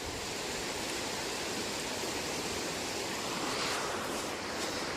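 Flooded stream water rushing steadily and powerfully, a dense broadband roar that stays loud and unbroken throughout with no voices.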